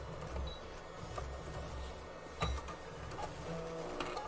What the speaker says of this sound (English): I'm going to go ahead and backstitch this and then pull it off.